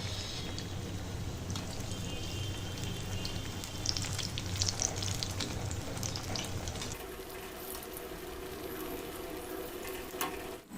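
Aloo bajji, potato fritters, deep frying in oil over a medium flame, giving a steady, dense crackling sizzle that runs close and continuous, with a slight shift in texture partway through; no talking.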